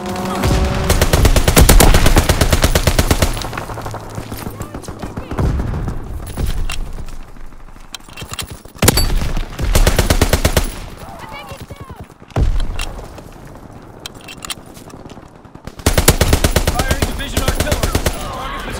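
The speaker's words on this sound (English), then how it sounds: "Fighter pilot inbound. Strafing the target." Strafing fire from a fighter plane in Call of Duty: WWII comes as loud bursts of rapid machine-gun fire, broken by quieter gaps, with scattered shots and game sounds between the runs.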